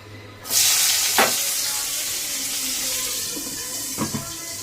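Tomato and green chilies dropped into hot oil in a pan, sending up a sudden loud, steady sizzle that continues throughout, with a couple of sharp pops.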